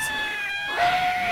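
A neighborhood cat lets out a single drawn-out yowl, a close, wavering caterwaul that slides lower in pitch partway through.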